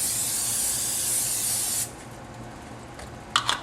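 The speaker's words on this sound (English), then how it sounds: "So I'm going to spray my pan" A sustained hiss of aerosol cooking spray onto a pan lasting almost two seconds, followed by quiet room tone and a couple of soft clinks.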